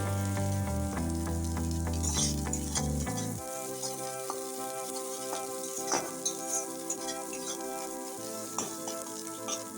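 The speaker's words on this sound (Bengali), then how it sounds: "মশলাটা খুব সুন্দর করে কষতে হবে।" Spice masala for potato curry (alu dum) frying in a pan crackles and sizzles steadily, with scattered stirring clicks and scrapes; a low tonal hum sits underneath during the first few seconds.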